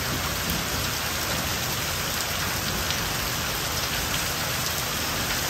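Rain falls steadily in a village, a loud, dense wash of drops hitting surfaces with faint individual taps and no voices heard.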